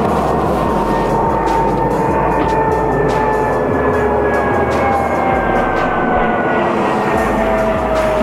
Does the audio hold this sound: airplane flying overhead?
yes